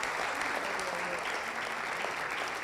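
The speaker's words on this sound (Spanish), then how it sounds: "Le da ese aplauso al Señor" A church congregation gives sustained applause during a worship service, a thick, even roar of many hands clapping at once with no break.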